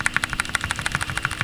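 Cheap mechanical keyboard's escape key, at the far corner, pressed repeatedly in a steady rapid rhythm of sharp clicky strikes, close and distinct over a faint constant hum.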